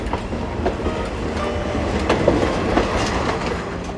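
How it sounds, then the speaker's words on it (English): A train on Thailand's Death Railway near Kanchanaburi rumbles along its rails with a steady clickety-clack and some metallic squeal, loud and continuous. "The train now returns to Kanchanaburi"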